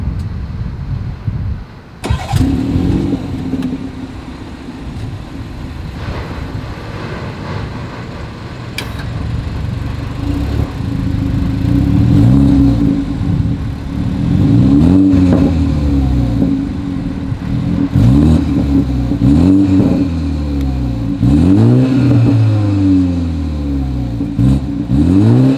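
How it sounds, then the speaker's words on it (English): A 2021 BMW 330i starts up and revs its exhaust repeatedly, loud and close, with rising and falling engine sweeps and a steady idle between blips; no one speaks. "As always, here is that exhaust clip."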